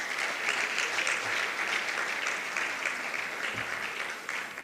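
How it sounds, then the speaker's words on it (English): Sustained audience applause fills a law school inaugural dinner at Caleb University, steady and dense throughout before tapering slightly at the end. "A round of applause."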